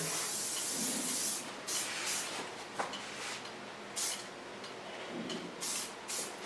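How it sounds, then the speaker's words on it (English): Soft hairspray is misted onto freshly cut hair in a salon in several short, airy hissing bursts, moderately close, with faint handling sounds between sprays. "Only thing I take now is a soft hairspray, not a hard one."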